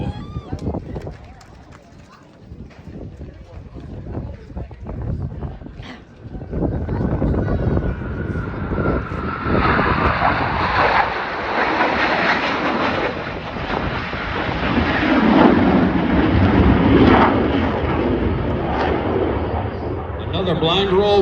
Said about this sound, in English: Please watch them as they perform the tuck-over roll.